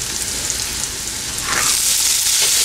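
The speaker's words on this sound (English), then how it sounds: "Now I am going to add our fresh green peas." Fresh green peas hit a hot pan with ginger and garlic, raising a loud close sizzle that swells sharply about halfway through and keeps hissing steadily, with no talk over it.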